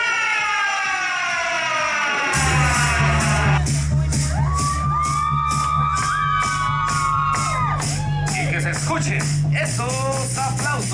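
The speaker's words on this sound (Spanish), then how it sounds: "¡Fuerte, fuerte, fuerte, fuerte, fuerte el aplauso!" A crowd at a quinceañera surprise dance cheers, whoops and shouts loudly and continuously over blaring siren-like sound effects and music.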